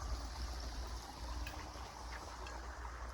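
Steady, low irrigation water flowing and trickling onto a sugarcane field, a continuous gentle rush with no voices, recorded at a quiet level.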